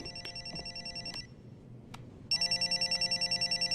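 A telephone rings in two bursts of rapid, warbling electronic trills, with a brief pause between them; the second burst is louder and closer, with no talk over it.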